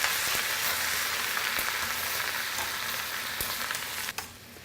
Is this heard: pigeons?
no